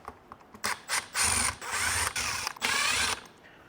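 A ratcheting screwdriver backs out T25 Torx screws from the steering yoke trim of a Tesla Model Y/3: close, crisp bursts of rapid ratchet clicking separated by short pauses, with no talking.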